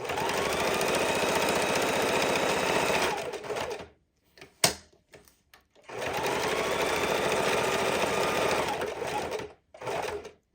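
A sewing machine stitches a fidget quilt in two long continuous runs, each lasting about three to four seconds. Between them come brief stops with a few clicks as the needle is left down to turn the fabric.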